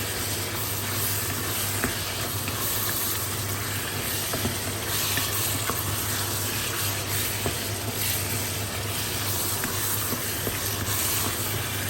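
Water poured into a pot of beef goulash with mushrooms and potatoes sets off a continuous, even sizzling hiss with faint crackles, steady and close.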